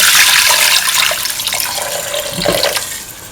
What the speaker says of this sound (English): Now pour in 300 ml of water.